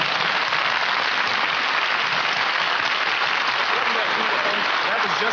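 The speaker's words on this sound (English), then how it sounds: "And a real cheer." A studio audience applauds and cheers for Cassius Clay on a 1963 television variety show, a dense, steady wash of clapping that stays loud and unbroken for several seconds.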